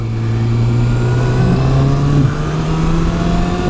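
A 2013 Kawasaki Ninja ZX-6R 636 motorcycle engine drones steadily while riding, its pitch dipping and rising as it downshifts, loud and close with wind noise.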